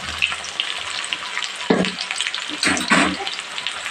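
Onion fries with khoira fish in a pan, giving a steady close sizzle broken by a few louder bursts of stirring and scraping, with a voice talking partly over it.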